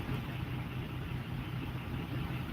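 An International truck sits idling in the sun, its engine giving a steady low rumble with a broadband hum, close and constant throughout, no talking.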